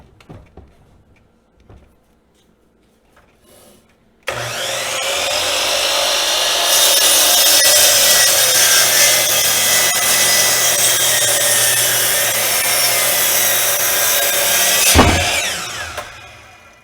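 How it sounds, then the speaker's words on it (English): A power saw cuts through a green, home-milled hickory handle blank, cutting it to length. Small handling knocks come first, then a loud, steady cut of about eleven seconds that stops abruptly with a short clatter. "So I'm going to cut it at 40 inches."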